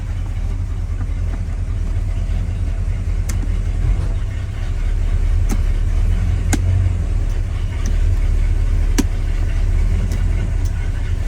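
A 1968 Pontiac GTO's 400 V8 with three-speed rumbles deep and throaty while driving, with sharp clicks and knocks popping out occasionally above the low roar.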